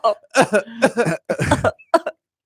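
A man imitates a small, sharp cough, voicing several short, loud bursts up close with brief pauses between them.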